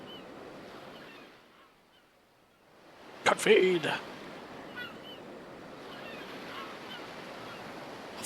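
Ocean surf rolls in a steady, soft wash across a seaside scene in Xenoblade Chronicles, broken midway by a sharp, louder burst; quiet spoken words occur briefly.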